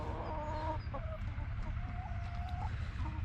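Several chickens cluck and squawk nearby in a village, with short broken calls and a drawn-out cackle over a low, steady background hum.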